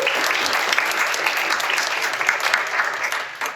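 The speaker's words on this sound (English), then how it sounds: "let's give them a round of applause" An audience bursts into steady, fairly loud applause that carries on evenly for a few seconds before tapering off.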